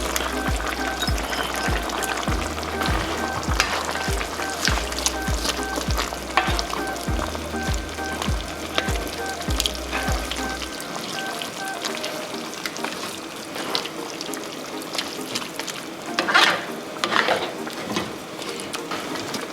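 Picadillo with potatoes fries in a pan, a steady close sizzle broken by frequent spatula scrapes as it is stirred, with a low hum running under the first half.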